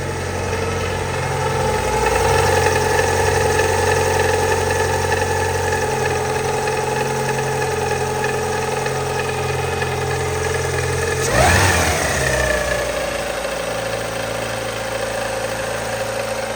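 A car engine idles with a steady mid-range hum and a faint whine, a worrying noise after a timing belt job, and near the middle it briefly revs up before settling back to idle.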